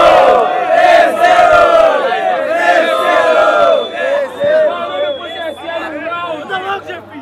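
A rap battle crowd at Batalha do Tanque roars and cheers loudly for an MC during the audience vote, a dense wall of shouting and whooping that stays strong throughout.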